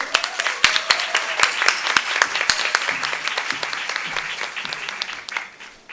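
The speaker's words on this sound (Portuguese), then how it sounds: "hoje vai ser um dia só palmas, muitas palmas" Audience applause at a women's leadership plenary on tax law, a dense steady patter of many hands that swells, holds for several seconds and then fades out toward the end.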